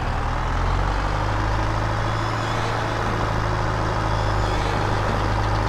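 A truck engine idling in Farming Simulator 22, a steady low rumble that holds close and even the whole time, with no talk over it.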